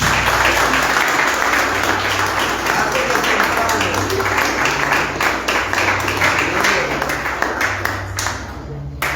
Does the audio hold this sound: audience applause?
yes